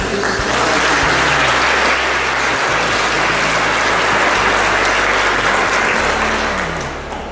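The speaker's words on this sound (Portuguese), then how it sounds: "Uma salva de palmas para vocês." A church congregation at a Saint Francis of Assisi Mass in Monte Castelo applauds loudly and steadily, a thick wash of clapping that holds throughout over a low hum before tapering at the close.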